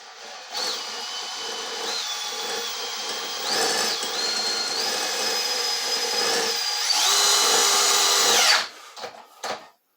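Milwaukee, Makita and Ridgid cordless drills run hard under load, a loud, steady motor whine whose pitch shifts and steps as they bog and recover, swelling near the end before cutting off abruptly, with a few short bursts after.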